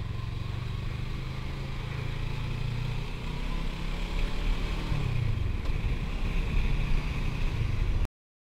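A motorcycle cruises on the highway from Kodaikanal toward Bangalore, its engine droning steadily and loudly under heavy wind rush, the pitch shifting slightly midway, until the sound cuts off abruptly at the end.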